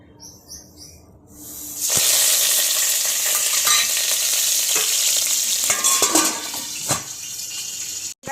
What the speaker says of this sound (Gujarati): મુઠિયા વઘારવા માટે લીધું છે મેં મીઠો લીમડો લીલા મરચાં તલ રાઈ જીરું અને હિંગ તો ચાલો ગાઈઝ વઘાર કરી દઈએ